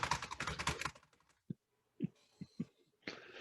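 Rapid, dense burst of typing on a computer keyboard, then a handful of separate, sharp key taps spaced apart after a pause, close and clear with no talking.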